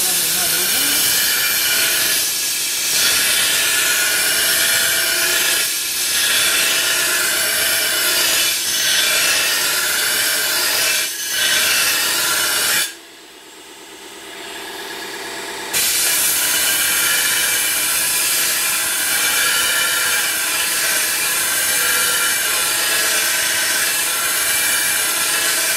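A shovel blade is ground on an ADEMS Tesar sharpening machine, a loud continuous hissing, rasping grind with brief dips, then a short quieter pause as the shovel is flipped before grinding resumes.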